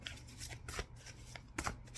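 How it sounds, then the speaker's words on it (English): Cards are shuffled up close for a pick-a-pile reading in quick riffling bursts, fairly quiet, with a brief pause between them. "Let's just give this a little shuffle here."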